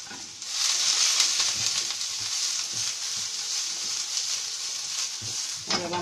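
Sliced onion and garlic sizzling steadily in hot oil in a pan, a close continuous frying hiss with occasional soft stirring knocks and scrapes.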